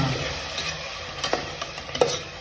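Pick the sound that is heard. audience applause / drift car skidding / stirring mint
stirring mint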